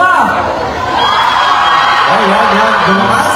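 Crowd at a concert event in Toronto cheering loudly with sustained screams and whoops, a dense, unbroken roar filling the whole moment.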